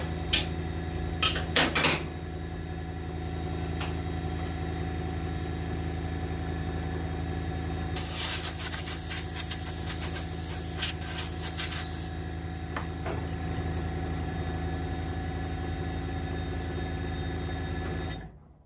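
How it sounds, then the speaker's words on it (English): A small air compressor bought for airbrushing runs with a steady low mechanical drone and hum, a few clicks early on and a brighter rattling burst midway before it cuts off at the end. "that was the compressor kicking on"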